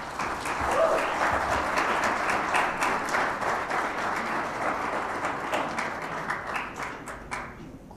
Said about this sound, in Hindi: आपकी पुरजोर तालियों में तशरीफ लाती हैं तानिया।